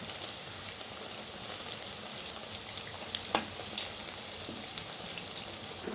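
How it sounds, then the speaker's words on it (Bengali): Onion fritters (peyaji) frying in hot oil give a steady, moderately quiet crackling sizzle with scattered small pops, heard alone without talk. "আমি সবগুলো পেঁয়াজি বানিয়ে তেলের মধ্যে দিয়ে দিচ্ছি"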